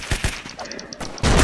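Henry rifle fire in the Roblox game: two quick cracks early on, quieter gameplay sounds, then a loud sustained burst of rapid gunfire at the end.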